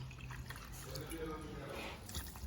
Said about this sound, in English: I think we need a little bit of water just to finish it off at the bottom for our cooking.